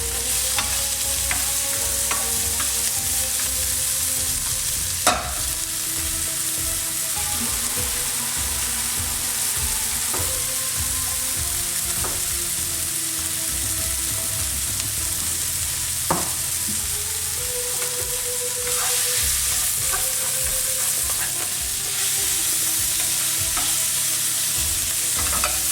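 Onions for lamb tagine frying in a pan, a steady crackling sizzle that runs throughout with frequent stirring scrapes and occasional utensil knocks, close and fairly loud.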